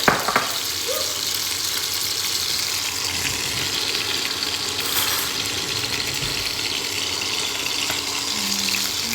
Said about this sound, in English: what we're doing was just searing the chicken on both sides